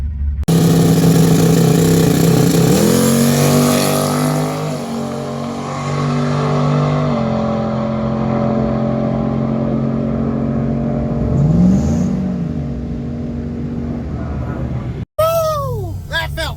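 A 1980 Trans Am with a turbocharged 6.0 Vortec LS engine accelerates hard down a drag strip, its loud engine climbing through several gear changes at close range before a sharp cutoff, with a voice briefly heard near the end.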